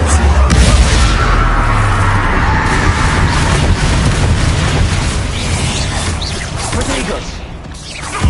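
A Confringo blast spell in the Hogwarts video game detonates in a loud booming burst with a rumbling crash, trailing into whooshing debris and lingering combat noise, while a voice talks over it.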